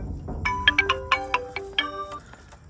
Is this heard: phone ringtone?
yes